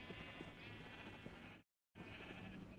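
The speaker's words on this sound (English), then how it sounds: "Crazy ass sheep." Sheep bleat in a steady, wavering drone that runs continuously, broken by a sudden brief silence before resuming just as before.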